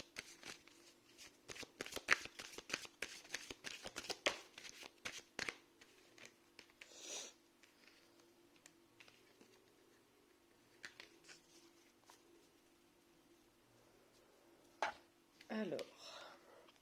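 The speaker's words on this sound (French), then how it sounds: "je fais tomber les cartes" Tarot cards being shuffled give rapid, close riffling and slapping at first, followed by sparse soft card taps and a few drops, quiet overall, with a faint voice in the background.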